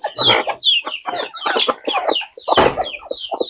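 A flock of desi hens clucks and squawks close by at morning feeding, busy overlapping calls coming in quick irregular bursts.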